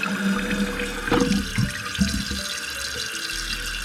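Water rushes steadily into a toilet tank through a newly installed Fluidmaster 400 fill valve, a continuous hiss and gurgle close by with a few louder splashy bursts partway through.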